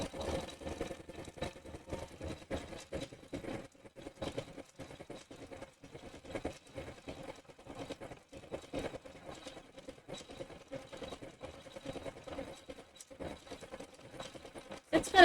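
An embroidery machine sews a wide satin stitch outline on a mug-themed quilt block, giving a quiet, rapid, steady patter of needle strokes that continues throughout.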